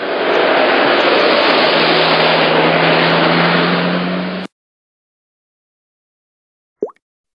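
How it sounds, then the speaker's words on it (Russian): A cartoon taxi's engine hums in a steady, close drone for about four seconds, then cuts off abruptly, leaving silence broken by one short blip. "Такси."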